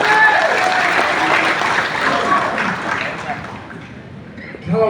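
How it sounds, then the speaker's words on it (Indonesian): Audience applause at a political speech by Surya Paloh in Indonesia, a dense broadband clapping wash that holds steady, then gradually thins and fades toward the end with a brief burst at the close. "berikan tepuk tangan yang hebat"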